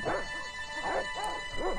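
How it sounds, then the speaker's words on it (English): A dog barks four times in the point-and-click adventure game Broken Sword: The Shadow of the Templars, each bark sharp and fairly close, evenly spaced over a steady low game hum. "Look at that moose! Oh, it's a dog."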